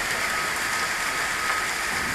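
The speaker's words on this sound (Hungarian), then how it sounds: "Kicsit kellemetlen a nagy zuhogó esőbe motorozni." Heavy pouring rain falls in a steady, dense, close hiss that does not let up, with no voices over it.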